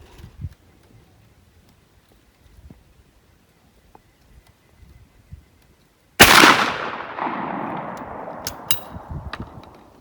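A 16 gauge roundball gun firing .600 caliber balls goes off in one loud, sharp chain-fire blast partway through, then a long rumbling decay with a few crackling pops, after several seconds of quiet outdoor range ambience.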